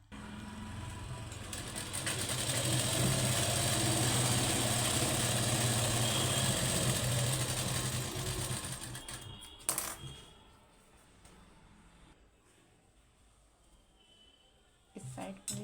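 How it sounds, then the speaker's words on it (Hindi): Electric sewing machine stitching a blouse, running in a steady fast whirring rattle for about eight seconds, close and loud, then stopping, followed by a few faint handling knocks and quiet room sound. "तो चलिए अब सिलते हैं, इसे तैयार करते हैं।"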